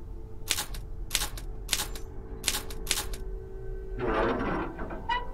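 Typewriter keys clack in five short, evenly spaced strikes in the video game Haunted Hotel: Ancient Bane, followed by a brief rustling mechanical rattle, all close and moderately loud with no talking.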